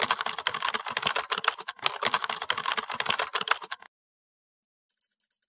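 Fast continuous typing on a computer keyboard, close and clear with rapid irregular key clicks for nearly four seconds, then silence with a faint brief click near the end.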